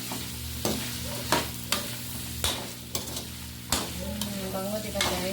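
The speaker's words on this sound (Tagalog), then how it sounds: "So mix it together." Adobo with potatoes being stirred in a sizzling frying pan, repeated scraping strokes of a utensil over a steady loud fry, close up, with no talking.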